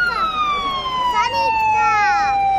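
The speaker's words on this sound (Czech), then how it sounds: "už nám jede sanitka" An ambulance siren wails loudly and close at a fire brigade anniversary demonstration of a police response, its tone sliding steadily downward as the vehicle passes, with a second siren tone overlapping.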